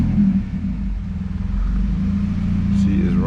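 A 1990s Honda Accord with a swapped F20B engine idles right after a push-button start, a steady low rumble close by that lasts throughout.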